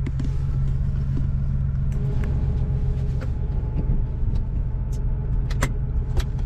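Vintage air-cooled Porsche 911 flat-six running, a loud steady low rumble heard from inside the car with a faint rising whine and a few light clicks and rattles, continuous throughout with no talking.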